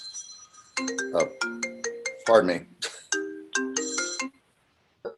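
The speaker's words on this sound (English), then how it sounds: "Phone call coming in." A phone ringtone plays for an incoming call, a loud repeating electronic melody of quick bright notes near at hand, with a person speaking briefly over it before it stops.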